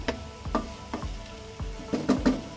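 Dal mash with spices cooks in a pan on a low flame, with soft sizzling and a spoon scraping and stirring in an irregular rhythm, close by and with no talk.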